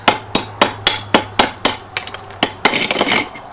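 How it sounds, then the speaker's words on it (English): The pick end of a mason's hammer chips at brick in sharp metallic strikes, a steady rhythm of about ten blows close up, ending in a scraping, crumbling burst. "you can just simply take the pick end of your mason's hammer,"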